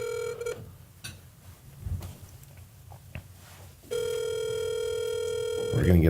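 An outgoing telephone call rings out with a steady, loud ringback tone that starts partway through and holds to the end, after quieter room noise and brief voices.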